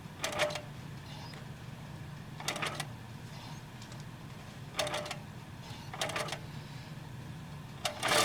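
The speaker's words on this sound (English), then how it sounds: "It's going to sew very slowly to begin with." A longarm quilting machine starts sewing slowly, giving spaced mechanical stitching bursts at an irregular pace over a low steady motor hum in a quiet room.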